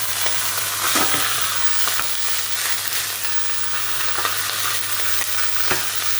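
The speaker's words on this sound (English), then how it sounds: "I'm frying that meat and browning that meat." Meat for spaghetti Bolognese sizzles and fries in a hot pot, a constant loud crackling hiss with occasional scraping stirs of a utensil, close by and with no talking.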